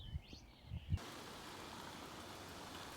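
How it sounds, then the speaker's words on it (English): Steady rain settles into a garden where lettuce, rocket, cabbages and peas are being planted out, a soft even patter that begins abruptly and continues alone after a few brief low thumps. "it looks like the rain might just be arriving"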